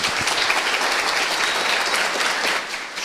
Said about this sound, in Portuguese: uma salva de palmas para Camila